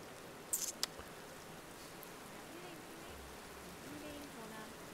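Light rain falling after a storm in a survival trading video game, a soft steady patter with a few faint clicks, quiet and continuous.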